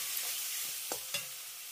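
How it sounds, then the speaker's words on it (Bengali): Ground spices and garam masala stir-fried with tomato in an oily pan, a soft steady sizzle with two brief scraping strokes of a spatula, close and fairly quiet. "এবারে আমি এই মশলাগুলো এই টমেটোর সঙ্গে খুব ভালো করে কষিয়ে নেব।"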